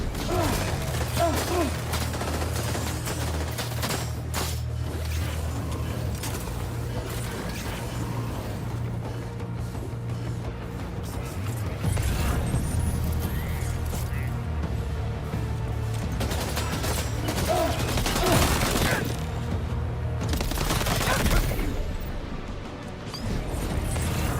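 Gunfire crackles in Death Stranding, scattered shots and crashing impacts over a low droning hum, with brief talk now and then.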